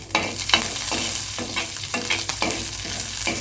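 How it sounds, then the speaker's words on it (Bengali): Curry leaves crackle and sizzle in hot oil with black mustard seeds, stirred in a pan with regular scraping strokes that come every half second or so over a constant close fry. "কালি পাতাটাকে আমি একটু নেড়ে চেড়ে ভেজে নেব"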